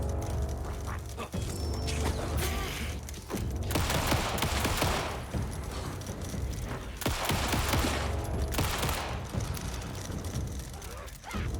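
Repeated loud gunshots in Alan Wake 2 fire in dense volleys through the scene, bunching into heavier clusters, with occasional faint voices underneath.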